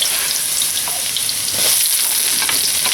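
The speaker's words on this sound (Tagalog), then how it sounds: "So, magigisa na tayo ng bawang." Garlic sautés in hot oil in a pan with a bright, loud, continuous sizzle and crackle, close up, swelling slightly partway through.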